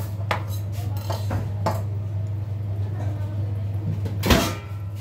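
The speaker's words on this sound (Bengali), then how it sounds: "এটাতে আমি একটু ঢাকনা দিয়ে ঢেকে দিব" A lid set over a cooking pan of eggplant mash ingredients with green chilies, a few light metallic clinks and a louder clatter near the end over a steady low kitchen hum.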